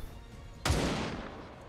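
A single sharp gunshot in XCOM 2 cracks out loud and close, then its reverberant tail decays slowly with no voices over it.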